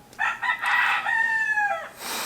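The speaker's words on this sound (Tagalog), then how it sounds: "Maingay yung mga manok." A rooster crows loudly and close by, one long strained call that rises and trails off, with no talking.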